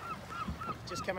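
A very young barnacle goose swimming on coastal water gives a series of short, thin honking calls at a steady rhythm, nearby and moderately loud, with a brief spoken remark partway through.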